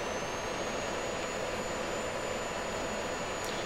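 Jet engine in the Falcon 4 BMS flight simulator running just above idle while the aircraft taxis toward the runway, a steady broadband roar with a thin high whine that holds level throughout, no talk.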